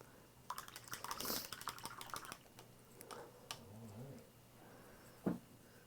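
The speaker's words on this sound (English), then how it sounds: "He's choosing. I hear the clicking." Computer mouse or keyboard clicks while a player picks a giveaway choice, a scattered run of sharp close taps with a louder click near the end, over low room hum.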